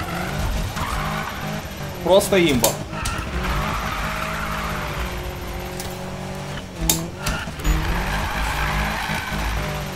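A BMW M3 E30 drifting in the Need for Speed game, with tires squealing in a couple of short, sharp bursts over a steady engine drone while someone talks throughout.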